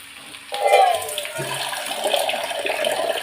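Water splashes and pours steadily into a pan, a continuous running, sloshing sound close by.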